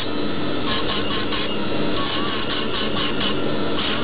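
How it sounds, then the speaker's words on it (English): A dental lab rotary grinder takes the oxide surface off a metal casting coping, giving a loud, high, steady whine that rises and dips in short repeated passes as it bites the metal. "I start taking off all the oxide surface from the casting. You see how the surface gets grinded?"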